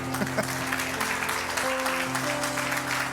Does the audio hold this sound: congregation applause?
yes